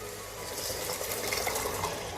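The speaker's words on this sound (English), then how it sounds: "I have also added the water that is in the tin as well." Black-eyed beans and their tin liquid are poured into a pan of cooked masala, a short soft watery splash and gush heard close up.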